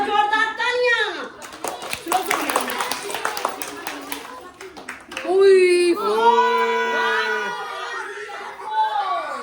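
An audience of children and adults at a painting workshop claps after a magic show, a short burst of hand claps mixed with laughter and chatter as voices talk over it.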